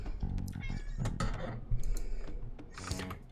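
A cat meows repeatedly while begging for food in the video game Persona 5 Royal: several close, insistent meows over the game's soft background sounds and faint clicks.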